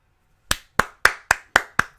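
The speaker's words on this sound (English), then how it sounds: "Golf clap." A single pair of hands gives a slow, deliberate golf clap: seven crisp, evenly spaced claps, close and dry, with no voices.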